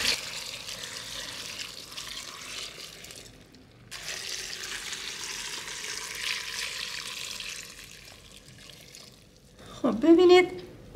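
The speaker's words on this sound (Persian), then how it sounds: "حالا آب اضافه میکنم." Water pours into a homemade apple cider vinegar mixture of apples, salt and grape vinegar, a soft continuous stream with a brief louder splash near the end.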